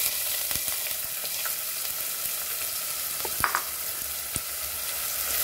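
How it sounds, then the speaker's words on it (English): Onion frying in a pan for a Goan arroz pulao, a steady close hiss and sizzle with a few light stirring clicks and no voices. "And now we will add a onion."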